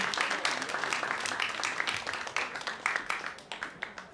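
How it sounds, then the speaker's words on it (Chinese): An audience at a jazz performance applauds a veteran Shanghai jazz musician, a dense burst of clapping that thins into a few scattered, distinct claps. "那大家把这个掌声送给我们的爵士前辈"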